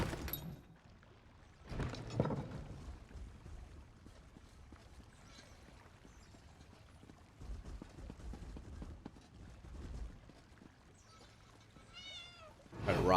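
A cat meows softly a few times in Elder Scrolls Online, with short calls near the start, middle and end. The meows sit over quiet, low game ambience.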